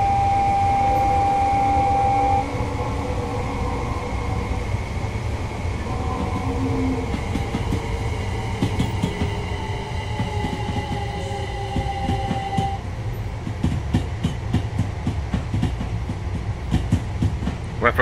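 Commuter train in Train Sim World 2 running on the London line toward Brighton past Lovers Walk Depot, a steady low rumble with humming motor tones, then a rhythmic clickety-clack of wheels over rail joints growing sharper toward the end.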